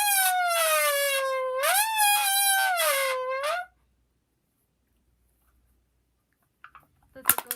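A can used to imitate a Lamborghini engine gives a loud, wavering, whining tone that rises and dips for a few seconds, then cuts to silence before a short clatter.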